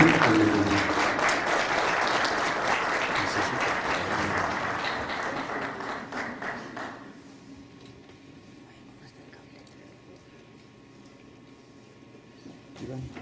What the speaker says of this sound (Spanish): recibámosle con un fuerte aplauso a nuestro pastor Marcelo Espejo